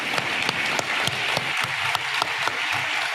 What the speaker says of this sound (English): So a round of applause to all of them,